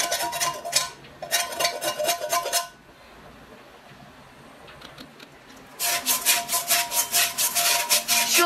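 Knife blade scraping the inside of a worn frying pan in rapid back-and-forth strokes, harsh and close, in two bursts separated by a quieter pause.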